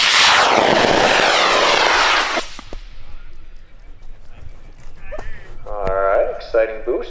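A high-power rocket motor ignites at an outdoor launch in Argonia, Kansas and roars loudly for about two seconds of boost, then fades into the distance as people talk and cheer.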